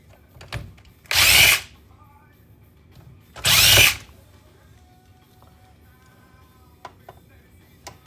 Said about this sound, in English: we're just kind of taking out screws, hoping for the best